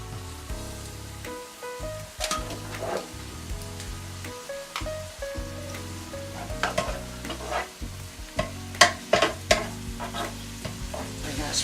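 Garlic and collard greens fry in a pan under a constant sizzle, while a utensil stirs them with repeated clacks and scrapes that grow busier and louder in the second half.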